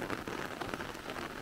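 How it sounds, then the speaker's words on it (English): Steady rain falls on a farm in Andalusia, Spain, a dense, even patter of drops hitting surfaces that continues unbroken, with no voices. "As soon as we thought it was the last of the rain of the season, it is raining again."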